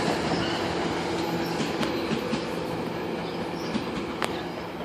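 A subway train rumbles steadily through Danforth station, a continuous loud rail roar with faint wheel squeal and occasional clicks, no talking.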